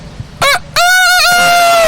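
A voice imitates a rooster crowing, a short nasal cry, a brief pause, then a loud drawn-out cock-a-doodle-doo that bends and trails off, heard close and alone.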